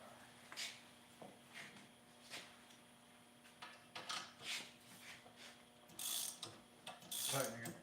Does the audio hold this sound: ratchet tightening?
yes